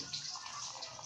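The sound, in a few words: pouring hot water into a glass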